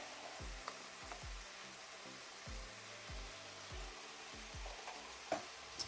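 Minced garlic fries in a pan with a soft, low sizzle while a utensil stirs it, making a series of rhythmic scraping strokes. The sound is close but quiet, with a couple of sharp clinks near the end.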